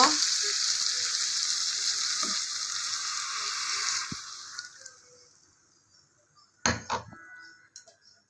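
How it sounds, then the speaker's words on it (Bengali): Water splashed into a hot frying pan holding pointed gourd and prawns gives a loud hiss that fades after about four seconds, then near-silence broken by a sharp clink of cookware and a few small knocks. "এই ভেতরে এবার আমি একটু জল দিয়ে দেবো"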